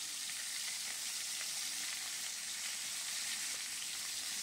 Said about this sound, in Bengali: এবার ওই তেলেই মাছের মাথাগুলো ভেজে নিচ্ছি।